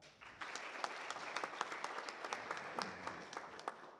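Audience applause at an award ceremony, a steady patter of many clapping hands that swells in and holds at moderate, fairly distant level for several seconds.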